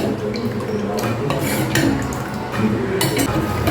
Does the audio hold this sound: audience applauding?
no